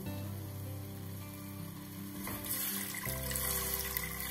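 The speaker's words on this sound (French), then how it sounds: "On couvre d'eau" Water runs into a pot to cover tajine ingredients with artichokes, a soft, close trickle and pour that grows slightly fuller toward the end.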